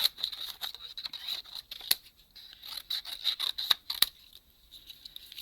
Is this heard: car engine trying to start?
no